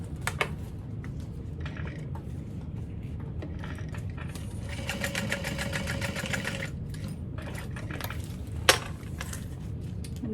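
Sewing machine running steadily as it stitches a line along a barrel bag, a continuous close motor whir with needle chatter and a sharp click near the end.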